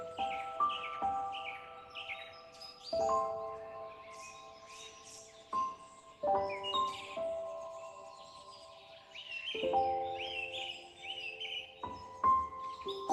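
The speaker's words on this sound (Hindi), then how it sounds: "हर पक्षी की, हर एक पक्षी की आवाज मुझे आ रही है।" Birds chirp and twitter in short, bright bursts scattered over soft, sustained chime-like tones, making a gentle, calm outdoor soundscape with no voices.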